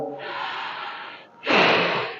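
During a pranayama yoga exercise, someone seated with hands on knees draws a long, deep breath through the nose, followed after a brief pause by a louder, forceful rush of breath.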